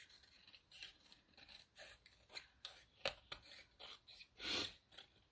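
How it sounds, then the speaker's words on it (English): Scissors trim around the outside edges of a craft scrapbook page, a close, quiet series of crisp irregular snips and rustles of paper, with no other sound. "So then we're just going to trim up around the outside edges."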